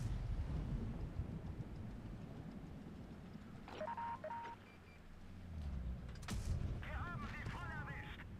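Tank cannon fire in World of Tanks from the MB-64 Galilej, with a low engine rumble beneath game effects, a sharp booming shot partway through, and chirpy interface tones around it.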